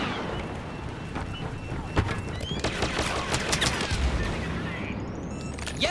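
Blaster turret fire in Star Wars Battlefront multiplayer, a dense, loud fusillade of rapid shots and booms overlapping continuously with other battle noise.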